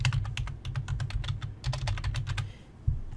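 Rapid, distinct computer keyboard keystrokes typed close and clear while editing text in Tinkercad, a steady run of clicks over a low background hum, ending with a single louder key press.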